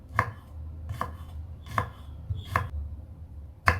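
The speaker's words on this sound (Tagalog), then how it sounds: "For our garlic, we will mince this." Garlic is minced with a knife on a cutting board, five distinct, evenly spaced chops that sound close and crisp against a quiet background.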